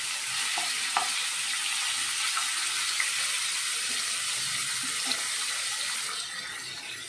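Chicken cooking in hot oil in a kadai gives a steady, even sizzle and hiss that carries on unbroken, with a few soft pops and crackles, heard alone and close.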